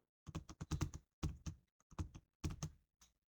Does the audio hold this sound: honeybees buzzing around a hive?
no